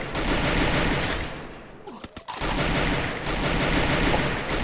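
Dense, continuous bursts of rapid gunfire in Free Fire fill the scene, with a brief lull midway before the shooting resumes at full intensity.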